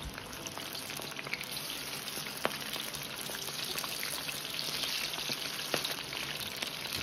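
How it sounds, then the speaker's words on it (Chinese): Potato pieces and large prawns deep-fry in a wok of oil over medium heat for a mala hot pot, giving a steady, moderately quiet sizzle with scattered small pops and no voices. "保持中火炸2分钟左右，把土豆炸熟，再放入大虾一起炸至"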